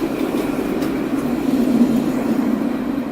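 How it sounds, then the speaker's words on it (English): A rainbow-coloured tram rolls along a street in Angers, France, giving a steady, loud low rumble and rail hum that swells slightly midway through. "Here it comes, this beautiful rainbow tram."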